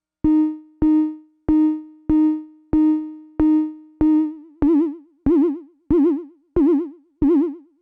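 An ARP 2600 clone synthesizer oscillator plays a sine wave in a steady series of about twelve short, evenly spaced notes, each with a sharp click at the start, the later ones taking on a wavering vibrato.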